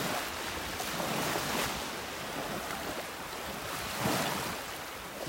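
Waves break on a sandbar off a beach in North Naples, Florida. Soft, distant surf washes in slow swells over a steady background roar, with no talking.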